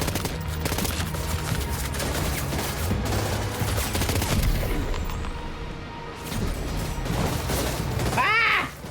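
Gunfire in the video game Death Stranding 2, with dense, rapid bursts of shots and booms that go on almost without pause, loud and close, while a voice briefly cries out near the end.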